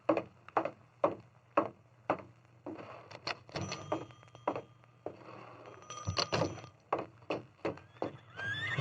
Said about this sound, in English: The stranger's saddle horse and a pack horse were at the hitch rack.